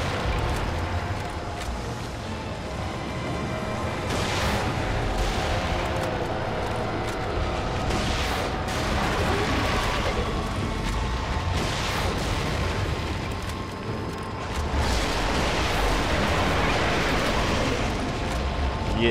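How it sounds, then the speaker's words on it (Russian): Steady, dense rumbling battle noise from the game The Evil Within, final boss fight against Ruvik, with repeated booming gunfire and explosions throughout, continuous and loud with no clear pauses. "Есть еще выстрелы."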